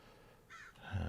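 A crow caws in a steampunk-modded Minecraft game: one short, close, harsh call cuts in over faint background ambience.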